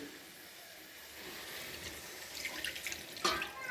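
Water is poured into a pan of prawn curry cooking with kohlrabi, a soft continuous splashing and trickling at close range that grows slightly louder toward the end.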